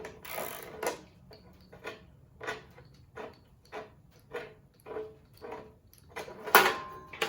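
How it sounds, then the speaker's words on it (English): A blade bolt on a chop saw being loosened, a series of quiet, evenly spaced clicking and ratcheting turns with soft mechanical knocks between them, close by and otherwise quiet. "Then you're just gonna loosen this bolt."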